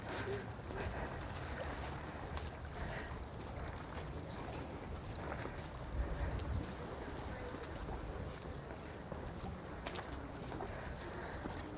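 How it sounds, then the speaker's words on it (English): Headwind buffeting a microphone on a walk around the bay at Puerto Pollensa, Mallorca, a continuous low rumbling gusty roar, with someone talking over it. "It's a little bit breezy."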